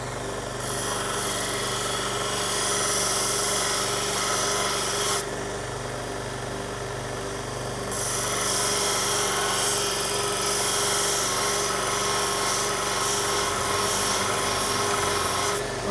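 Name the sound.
belt grinder sharpening a knife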